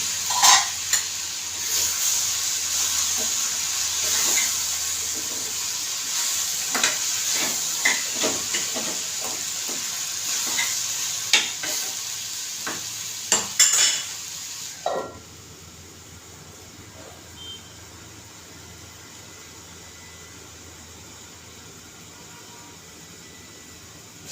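Tomatoes cook in a lidded pan for paneer gravy, giving a steady soft sizzle and hiss with occasional clicks and pops for about fifteen seconds, after which it settles into a quieter, muted simmer.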